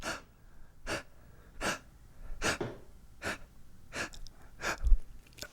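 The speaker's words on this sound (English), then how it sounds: "So what we do all day is little rapid breaths." Quick, sharp breaths repeat roughly every three-quarters of a second, eight short bursts of anxious over-breathing, close and clear against a quiet background with no talk.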